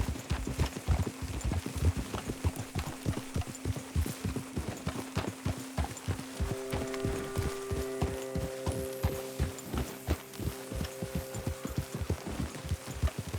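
Rhythmic clip-clop of horse hooves trotting at a steady pace in the video game Red Dead Redemption 2, close and clear, with a faint tonal hum joining partway through.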